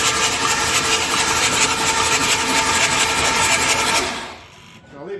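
A 7.3L Powerstroke diesel engine cranking over with its glow plugs removed, a loud continuous raspy churning that runs steadily for about four seconds and then cuts off.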